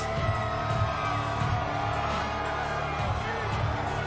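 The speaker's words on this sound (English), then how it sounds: "I mean, they're cheering." A large crowd roars and cheers continuously in a big arena at the WrestleMania XL kickoff press conference, with scattered yells and whoops rising from the steady din.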